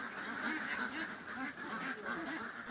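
Pekin ducks in a pen, kept for egg laying, quacking in a steady chorus of repeated nasal calls, close and moderately loud, with no talking.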